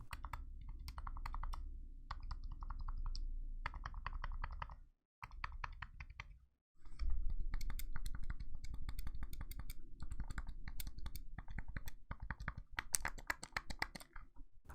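Buttons on Retroid Pocket handheld consoles, a Classic and a Mini with modded buttons, are pressed in rapid, dense bursts of crisp close clicks, broken by two short pauses, with no voices.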